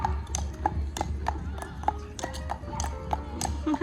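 Horse hooves clip-clop at a steady walking rhythm as a costumed rider passes along a street in Colonial Williamsburg, Virginia, fairly close, with faint voices and background chatter underneath.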